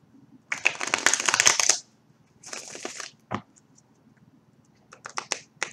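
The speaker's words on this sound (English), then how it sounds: "One more shuffle." Tarot cards being shuffled by hand, heard as close, crisp riffling bursts: a long flurry, a shorter one, then a single sharp snap and a few quick clicks near the end, with no talk.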